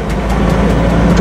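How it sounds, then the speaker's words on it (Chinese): Hybrid motorhome accelerating to overtake on a paved city road, its engine a steady, close mid-pitched drone with road rumble from inside the cabin, no talking. "我们依然是在安全的前提之下进行超车啊，给一脚油门"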